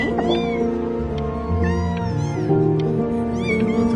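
Several cats meow and caterwaul in the video game Before Your Eyes, overlapping cries rising and falling over a steady musical background, with no talk.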